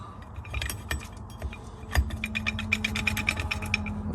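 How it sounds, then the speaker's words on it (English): A billet forward hub and clutch packs are worked down into a TH400 transmission forward drum, giving close metallic clinks, light rattles and scattered taps of steel parts knocking together. "This is the billet forward hub going into the forward drum."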